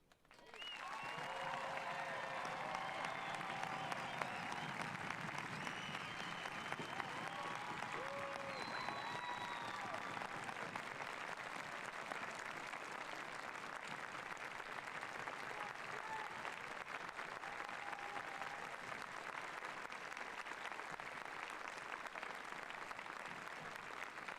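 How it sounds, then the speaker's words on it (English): A graduation ceremony crowd applauds the high school class of 2021, broad continuous clapping that swells quickly and holds steady for over twenty seconds, with faint voices and whistle-like tones mixed in early. "let's conclude this ceremony with a round of applause for all of our graduates"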